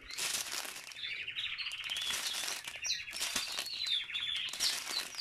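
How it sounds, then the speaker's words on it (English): Pet birds chirp and sing in bright, rapid trills and tweets, fairly close and continuous, with a faint crinkling rustle underneath. "Here are my birdies singing."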